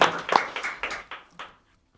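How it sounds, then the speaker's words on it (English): Applause at a live music song swap fades out, a handful of distinct claps thinning over a second and a half before falling silent. "let's keep those hands clapping"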